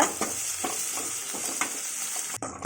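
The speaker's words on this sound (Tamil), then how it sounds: "நல்லா வெங்காயம் வந்து வதங்கட்டும்" Onions sautéing in oil with cumin, curry leaves and green chillies, a close, steady sizzle with rhythmic stirring scrapes of a spoon against the pan, cut off abruptly at the end.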